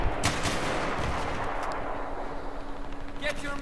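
A Saiga 12K shotgun firing frag rounds in a Battlefield 3 team deathmatch booms close and heavy at the start, followed by a sustained roar of battle noise and distant blasts, fading toward the end.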